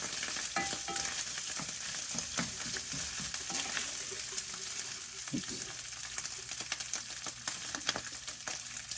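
Pork sausage meat frying and crackling in a hot pot, steady close sizzle broken by scraping stirs and occasional utensil knocks, no voices.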